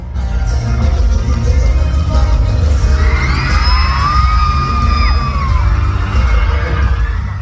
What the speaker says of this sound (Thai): อย่างช็อตนี้คือทำให้ แฟนคลับกรี๊ดกราดกันทั้งหอกันเลยทีเดียว